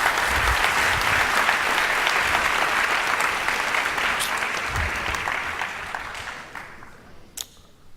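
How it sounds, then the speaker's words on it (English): Audience applause at the 2nd Agile Serbia Conference: dense, sustained clapping from a large crowd that slowly thins and fades over eight seconds, with a few last claps at the end. "Round of applause,"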